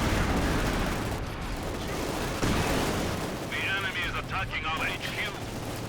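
Grenade explosions and gunfire in Company of Heroes 2 battle, a dense continuous roar of blasts and shooting with a rising whistle or crackle near the end, a voice talking over the din.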